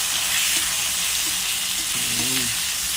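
Pork dropped into hot oil with garlic for chop suey sizzles and crackles loudly and continuously, a dense frying hiss with a few faint clinks of stirring underneath.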